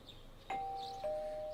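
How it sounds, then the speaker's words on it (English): Doorbell ringing in the video game Persona 4 Golden, a clean two-note ding-dong chime with sustained tones, clear and moderately close against a quiet background. "Oh, I definitely hear a doorbell."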